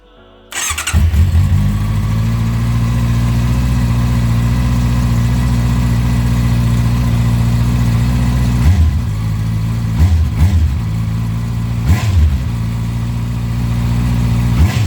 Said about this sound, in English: Sound test on cold engine.